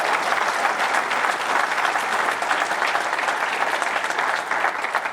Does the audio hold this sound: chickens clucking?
no